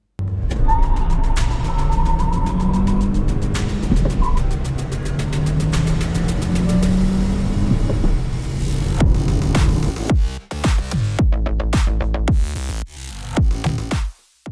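A 2023 Hyundai Verna turbo with a six-speed manual gearbox accelerates hard from standstill toward 100 km/h, its engine droning and rising in pitch. The drone drops briefly at gear changes, loud and steady inside the cabin.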